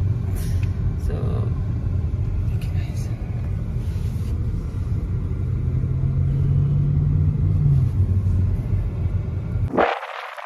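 A jeep idles and rumbles in the Dubai desert, a steady low engine drone running throughout, with a low tone swelling midway, before a sharp loud burst near the end.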